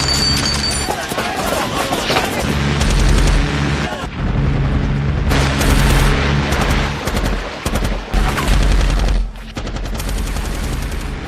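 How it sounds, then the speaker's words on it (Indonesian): A film's extraction team fires heavy-caliber rounds at enemies: dense, loud bursts of automatic gunfire with booming reports, nearly continuous, mixed with rumbling impacts and a dramatic soundtrack. "datanglah tim penjemput yang langsung menghujani para musuh dengan peluru berkaliber besar"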